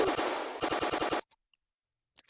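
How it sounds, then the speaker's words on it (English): Automatic gun in a VR first-person shooter firing two fast sustained bursts of rapid shots at close range, loud and alone, ending abruptly with a brief echo and near silence after. "Automatic can be tuned to shoot however many bullets per second."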